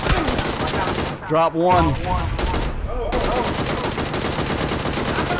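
Automatic gunfire in PUBG near a house: dense, loud bursts of shots fill the clip, with brief gaps where a nearby voice speaks over the game.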